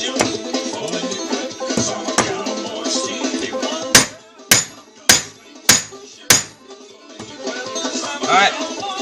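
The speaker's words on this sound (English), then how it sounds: "flatten it back out with your hammer" Five loud, sharp metallic hammer strikes land in a steady rhythm on a heated 9-inch nail being flattened, ringing briefly, with background noise before and after.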